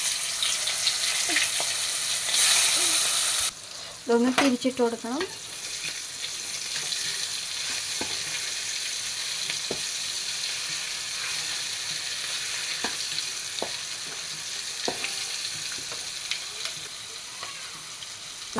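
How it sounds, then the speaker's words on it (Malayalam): Sardines fry in hot oil with curry leaves in a pan, a steady close sizzle running throughout, with a brief tap splash early on and a short spoken remark. "ചട്ടി വെച്ചിട്ട് ചീനിച്ച എണ്ണ ഒഴിച്ചു ലേശം കറിവേപ്പില ഇട്ട് കൊടുക്കാം അതായത് മീൻ വറുക്കാൻ ഇട്ട് കൊടുക്കാം"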